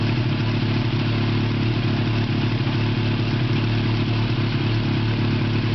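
A Yamaha FZX 700 Fazer motorcycle engine with a stock airbox and rebuilt carburetors runs steadily nearby, a smooth continuous mid-pitched drone with a low rumble and no changes in revs.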